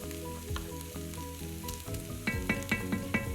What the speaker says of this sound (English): I really want these to kind of saute up a little bit, heat up